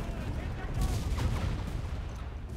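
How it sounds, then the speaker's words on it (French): Machine-gun fire in the World War II shooter Enlisted, heard from inside a building under attack: muffled, booming bursts and rumbling impacts close by, loud and dense over a short stretch. "ils arrivent à mitrailler l'intérieur du bâtiment"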